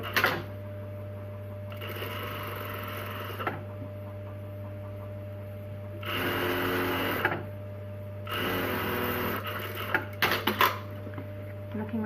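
Short bursts of a sewing machine edge stitching a tote bag: a quick run at the start, then longer stitching runs in the middle and later, separated by a quiet hum and small handling clicks.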